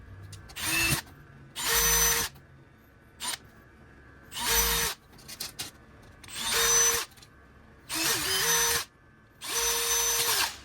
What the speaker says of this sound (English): we're going to drill those holes in this right here